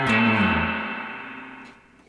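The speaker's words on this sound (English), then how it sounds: "There's a reverb on 10." Through a 1976 Traynor YGL-3 amp with the reverb turned up to 10, a distorted electric guitar chord rings loudly, then decays over about two seconds into a long, washy reverb tail.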